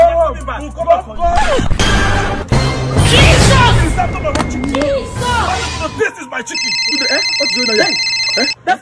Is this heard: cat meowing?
no